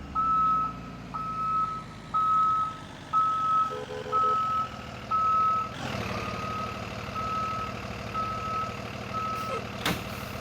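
A bus reverses and parks in the Rigs of Rods driving game, its reversing alarm beeping in a steady repeated pattern over a low engine hum. The beeps stop and a hiss like an air brake follows, then the engine idles on.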